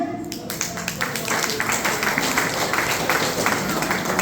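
Audience applause fills a crowded hall during a dance-themed gathering, a steady, dense wash of many hands clapping that runs continuously for the whole stretch, with voices faintly mixed in.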